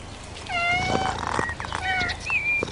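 A cat meows near a catnip plant, giving several close, drawn-out meows of varying pitch in quick succession, with faint rustling underneath.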